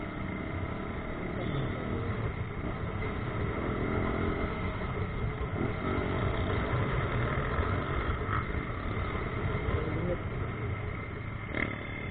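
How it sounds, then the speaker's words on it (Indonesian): A fuel-injected motorcycle engine idles steadily up close, a smooth continuous hum with a light buzzing texture and no sharp revs. "Suara motor ini terasa lebih ringan."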